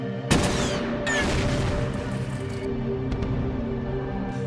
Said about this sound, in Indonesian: Seorang kolonel kemudian menyuruh anak buahnya memberikan bantuan berupa tembakan artileri